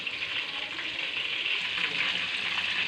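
Chicken kofta balls frying in hot oil give a continuous bright sizzle and crackle, steady and close, with no one talking.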